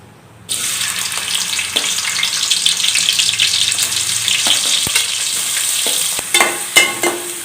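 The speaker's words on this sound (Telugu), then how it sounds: "ఆయిల్ వేడైన తర్వాత ఆనియన్ వేసుకుందాము" After a brief quiet moment, onion drops into hot oil and breaks into a loud, sustained sizzle, with sharper crackles and stirring knocks toward the end.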